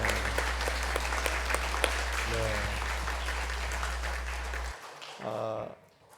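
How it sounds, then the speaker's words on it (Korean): A church congregation claps together in encouragement, steady applause over a low electrical hum, with a few voices and a brief burst of speech as it dies away. "우리 서로 수고했다고 격려의 박수 한번 쳐드릴까요?"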